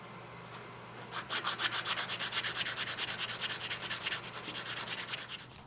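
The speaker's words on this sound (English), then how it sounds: "I'll use a file to clean it up and soften the edges with a strip of sandpaper." Wood edges being cleaned up with a file and a strip of sandpaper make a close, rhythmic rasping rub of steady back-and-forth strokes lasting several seconds.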